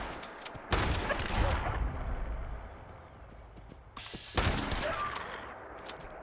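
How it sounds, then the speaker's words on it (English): Shotgun blasts in the video game Fallout 76, two loud booming shots a few seconds apart, each followed by a rumbling tail and quieter game sounds between. "Maybe the shotgun's the way to go on these guys."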